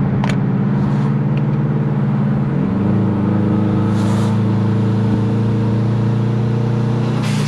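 A twin turbo Subaru Forester's engine and exhaust drone loudly and close, holding a steady low note that shifts as it accelerates, with a few sharp clicks over the top.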